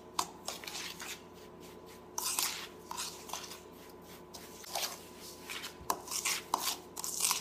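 Jam tart ingredients being mixed together in a bowl: soft irregular crumbly scraping and squishing sounds, repeated in uneven strokes at close range, with no talking.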